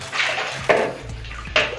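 Water from a small spring beside a shrine drips and splashes steadily, with a few sharper splashes standing out against a continuous wet trickle and no talking.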